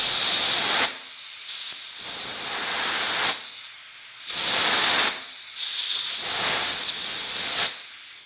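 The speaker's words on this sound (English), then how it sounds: "Now I try to blow the caliper piston out using compressed air." Compressed air blasts through a seized brake caliper on an abandoned Honda CB250 motorcycle, giving four or five loud, broad hissing bursts in rhythmic pulses, each about a second long, with short quieter gaps between them.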